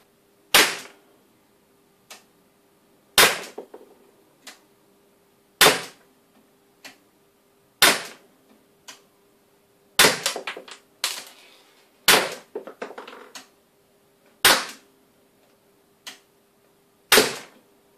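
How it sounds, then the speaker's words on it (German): Beretta PX4 Storm Recon pistol shots crack out one at a time from a rested position at a steady, deliberate pace, each a sharp bang followed by a brief echo in an otherwise quiet space. "jetzt mache ich nochmal ein Magazin, also einmal 8 Schuss aufgelegt"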